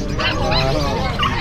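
A female dog of a Belgian breed barks and yips in short, close bursts with a whimpering edge, while people talk nearby.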